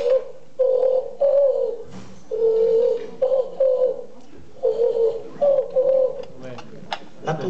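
A person imitates the call of a grey turtle dove, voicing repeated hollow cooing phrases in a steady rhythm with short gaps, close and clear.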